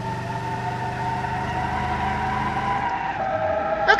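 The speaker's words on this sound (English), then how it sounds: "Okay, so it can drift and do burnouts." In the BeamNG driving game, a 1996 Buick Roadmaster with a limited-slip rear differential drifts: a loud, continuous tire skid and engine drone hold steady, then the squeal shifts pitch near the end.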